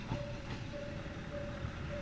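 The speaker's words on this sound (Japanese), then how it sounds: "門田駅に電車がね入線してきました" A train pulls into Monden Station, an unstaffed station in Fukushima, with a steady close rumble and rail clatter and a thin, sustained squeal running over the noise.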